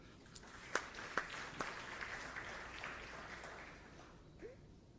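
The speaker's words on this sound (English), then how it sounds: "That's worthy of applause there, isn't it?" An audience at a chamber of commerce legislative event gives brief, scattered applause, a few sharp claps standing out over a soft patter that fades away.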